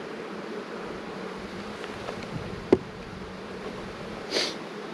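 Honey bees buzz steadily around hive frames being moved between boxes during a colony split, a soft continuous drone with a sharp knock partway through and a brief swell of buzzing near the end.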